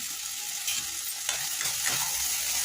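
Fried paneer stirred into masala in a pan gives a soft, steady sizzle with a few scraping stir strokes, close and fairly quiet, with no talking.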